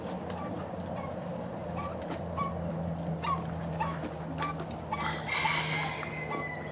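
Edwards's pheasants calling from aviary pens at a bird-keeping facility, with scattered short clucks and whimpering notes at moderate distance over a steady low background hum, and other fowl sounds mixed in.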